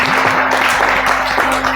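Clapping from a group at an orphanage, offered as birthday wishes for a child; a steady, dense patter of hands over a constant hum runs for the whole short stretch, fairly loud and close.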